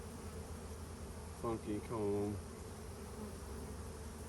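Honey bees swarm around an open hive with uncapped larvae and irregular comb, a steady close droning hum that fills the background while someone speaks briefly in the middle.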